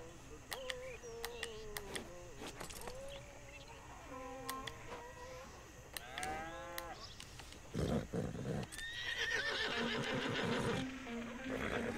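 Horses in Red Dead Redemption 2 neigh and whinny repeatedly with shrill wavering calls and snorts, fairly close, joined later by louder rumbling noise and a person talking.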